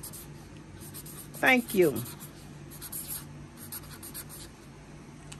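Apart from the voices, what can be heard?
handwriting on paper to make sticker tags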